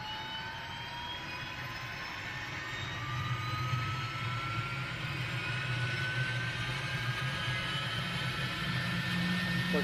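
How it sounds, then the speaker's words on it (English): Turbine helicopter engine in Microsoft Flight Simulator 2020 spooling up, a steady whine with rising tones over a low rumble that grows louder and fuller as it winds up. "this is a turbine helicopter too"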